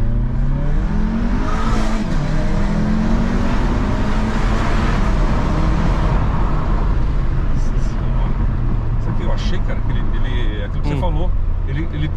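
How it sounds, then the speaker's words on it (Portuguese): Tuned 500 hp VW Passat accelerating hard at full throttle, a loud rising engine roar with turbo whoosh swelling through the gears, while people talk over it. "o Passat entrega tá a potência, pisa tudo, tem que pisar tudo"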